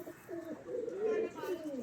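Giriraj pigeons kept as a hobby coo close by in a soft, repeated, rolling pattern that runs steadily for a couple of seconds with no other sounds.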